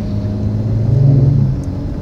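A loud Infiniti G37 engine rumbles and revs as it passes close by, swelling to a peak in the middle before easing off.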